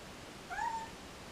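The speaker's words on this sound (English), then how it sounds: "My cat is screaming at me." A pet cat lets out a single loud, rising-then-falling meow close by, lasting about a third of a second against a quiet room.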